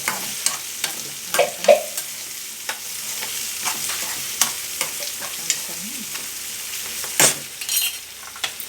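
Sweet pongal of rice and sugar boils in a pot while a spoon stirs it, giving soft bubbling and sizzling under repeated scraping and clinking strokes, close and moderately loud, with no talking.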